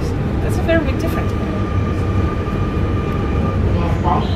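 A loud, continuous rumble and rattle of a train rolling along rails, with faint squeals rising now and then over the steady roar.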